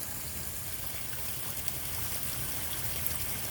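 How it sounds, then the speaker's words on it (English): Steady water flowing from LED-lit waterfalls into a swimming pool, a continuous even rush heard alone without voices. "LED lighted waterfalls, as you can see here. The water comes out and there's LED lights underneath and it lights up the water."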